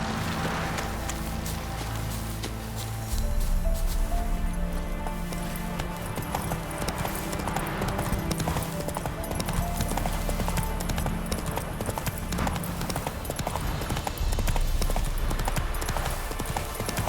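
Hooves clip-clop at a fast, steady gallop as the horse Roach runs across Velen in The Witcher 3: Wild Hunt, with rhythmic beats over a dense, continuous game soundscape throughout.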